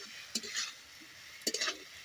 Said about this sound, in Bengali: বন্ধুরা আলুটাকেও মশলার মধ্যে একটু ভালো করে কষিয়ে নেব।